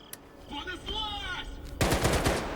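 A loud burst of rapid automatic gunfire erupts near the end, sharp crackling shots after a stretch of quieter game sounds, in the video game S.T.A.L.K.E.R. 2: Heart of Chornobyl.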